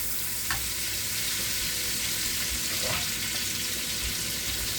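Onions half-cooked in a frying pan at home, giving a steady close sizzle and frying hiss throughout, with a couple of faint stirring scrapes and occasional soft voice in the background.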